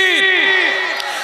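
A crowd at an Islamic religious gathering shouting a slogan in unison, a single loud collective cry close to the microphone.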